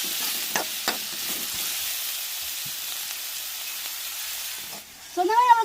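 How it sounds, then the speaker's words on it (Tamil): Onions sautéing in a pan for fish puttu, a steady frying hiss with a few scraping stirs near the start, moderate and close, then a brief louder clatter at the end. "வெட்டி வச்ச வெங்காயத்தையும் சேர்த்துக்கிறோம் வெங்காயம் நல்லா வதங்கி வரட்டும்"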